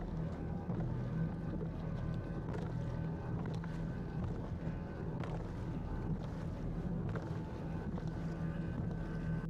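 Loud, constant roar of a fishing boat driving hard through water, with wind buffeting and occasional heavy thumps as the hull slams into waves.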